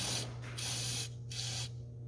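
Fluid Film rust protection hisses from an aerosol can into a truck's cab corners in three short bursts, close and steady, over a low background hum.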